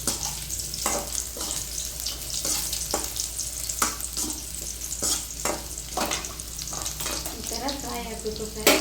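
Ridge gourd masala fries in a pan with a constant sizzle, broken by repeated scraping strokes of a stirring spoon at a loose, irregular rhythm, close by.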